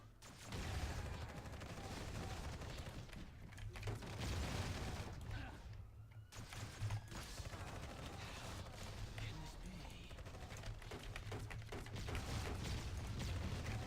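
Grenades explode in the video game Marvel Heroes: Omega, a dense, continuous barrage of booms and gunfire-like blasts with a steady low hum underneath and a brief lull midway.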